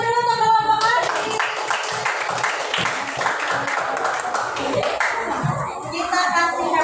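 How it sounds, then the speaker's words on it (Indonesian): Children in a classroom clap together for a group that has just performed, a brisk run of claps mixed with young voices and an adult speaking. "tepuk tangan dulu untuk kelompok Hasbi."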